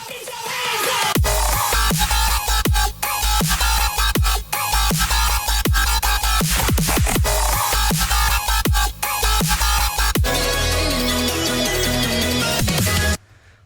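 A Serum bass from a remix, loud and continuous with heavy low end, gritty buzzing growls and sharp rhythmic stabs and drops, played alone without talk.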